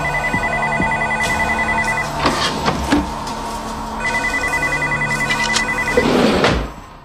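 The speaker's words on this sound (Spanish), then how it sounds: "Scully llama por teléfono y al no contestar nadie sabe que algo anda mal." Telephone ringing unanswered in a dark TV drama scene, a loud repeated electronic ring in two long trilling bursts separated by a pause, with a few thuds and knocks in between.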